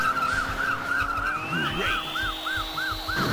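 Repeated tire squeals from a skidding car under hard braking in the Chase HQ arcade game, sharp looping screeches over a steady engine drone with a rising whine, loud and continuous.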